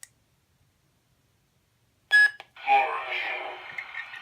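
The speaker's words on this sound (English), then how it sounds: "You push and hold the power button until you hear a beep" A custom LED lightsaber gives a short electronic beep during a sound font switch, after a stretch of silence, then a voice-like sound-font clip follows at moderate volume.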